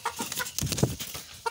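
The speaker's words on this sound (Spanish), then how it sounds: "Vamos a sacar a las ponedoras un ratito." Laying hens clucking in a backyard chicken coop, a close series of short, choppy clucks and squawks from several birds, busy and overlapping with no talking.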